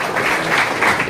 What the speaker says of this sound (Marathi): तर जोरदार टाळ्या झाल्या पाहिजे.